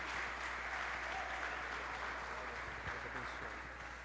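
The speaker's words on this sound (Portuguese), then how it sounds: "Aplauda ao Senhor, querido." A church congregation applauds, a steady, dense wash of clapping held at even, fairly soft level for the whole stretch, with faint voices beneath.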